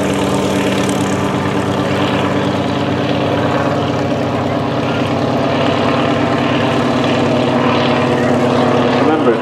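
Antonov AN-2 propeller biplane at a flying display at Kemble, its radial engine giving a loud, steady, throbbing drone that holds throughout without pause.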